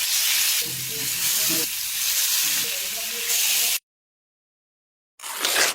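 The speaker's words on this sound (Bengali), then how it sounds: "প্রথমে কাতলার টুকরোগুলো ভালো করে নুন হলুদ মাখিয়ে নিয়ে তেলে হালকা বাদামি করে ভেজে নিতে হবে" Pieces of catla fish, rubbed with salt and turmeric, sizzle loudly in hot oil as they fry to light brown. The steady crackle runs for a few seconds, cuts to silence, then briefly resumes.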